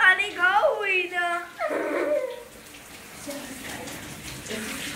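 Dog being washed under a running shower, giving whining yelps and whimpers over splashing water while people talk nearby.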